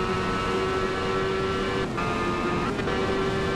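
A Honda Hornet motorcycle in the racing game Ride holds a steady, loud, buzzing engine drone on a salt desert run, constant and close with a brief dip midway, no voices over it.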